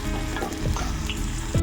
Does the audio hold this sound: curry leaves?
yes